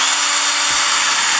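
A power drill runs loud and steady while a mason jar lid is being turned into a herb shaker, a continuous close whine for the whole moment with no voices.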